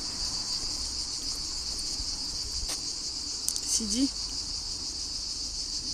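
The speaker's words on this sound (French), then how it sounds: "On entend toujours un peu les cigales quand même." Cicadas in summer in Aix-en-Provence drone as a steady high-pitched buzz throughout, with faint background voices and a brief quiet vocal sound near the end.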